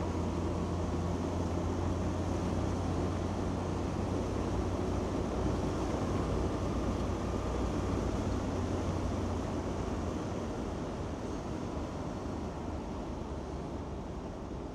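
A 1964 Alfa Romeo Giulia Spider 1600 on the road, its engine and road roar forming a steady, loud, continuous drone with wind rush, gear changes not distinctly audible.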